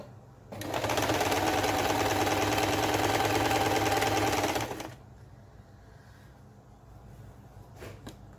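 A basic domestic sewing machine about eight years old runs in one steady, loud burst for about four seconds, then stops, leaving quiet room noise with a faint tap near the end.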